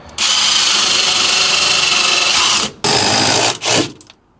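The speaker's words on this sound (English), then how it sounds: "So screw the tread from the back." Power driver running a screw into a wooden stair tread from behind during raked stair framing, a loud steady whine held for over two seconds, then a short second burst and a brief final spurt, close up with no talk.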